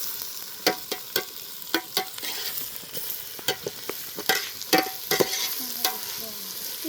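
A utensil scrapes and clacks against a pan in quick, irregular strokes over a continuous sizzle of food frying until brown for biryani close by.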